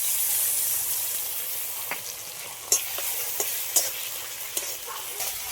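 Sliced onion frying in oil with chopped tomato and ginger-garlic paste added, a steady loud sizzle and hiss with a few sharp spoon scrapes and clacks against the pan.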